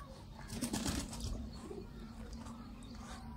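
A male Bagga pigeon coos softly on a rooftop, with a few low throaty coos near the start, then faint background noise.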